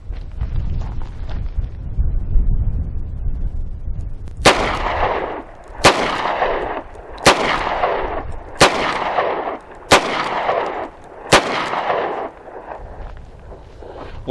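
Six loud, evenly spaced .38 Special revolver shots from a Taurus 856 and a Rock Island 206 crack out over steady outdoor wind rumble, each with a sharp report and a short decaying echo.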